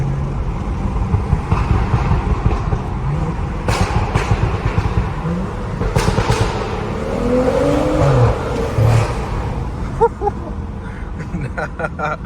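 BMW F30 engine revving with a few sharp exhaust pops and crackles, close by, with some talking in the background.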